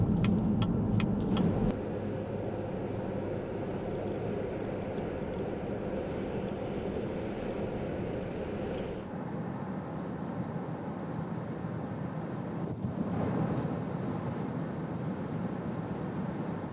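A 2015 Chevy Impala with a 3.6L V6 cruises along a highway, giving a steady, even engine and road rumble with tire noise that stays constant throughout and becomes somewhat muffled partway through.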